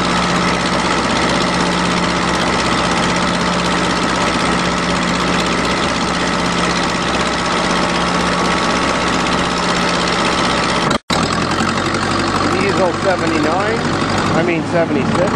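A farm tractor's engine drones steadily as it drives along at speed, a loud continuous hum with a brief dropout near the end and some wind and road noise.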